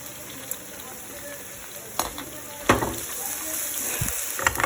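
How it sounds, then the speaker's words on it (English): Baby corn deep-fries in oil over medium heat, a steady crackling sizzle with occasional louder pops and clinks, faint and continuous throughout. "We have to fry in medium heat only so that it should be nicely done from inside as well."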